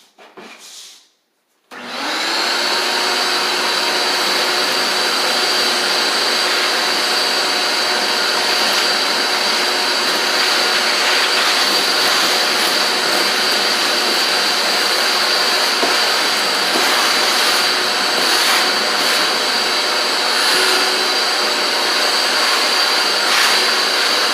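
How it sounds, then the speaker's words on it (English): A shop vacuum cleaning up debris from drilling holes for concealed cabinet hinges starts abruptly and runs loud and close as a steady, high-pitched whining roar for over twenty seconds, with no talking. "And now I'll just take my shop vac and clean up."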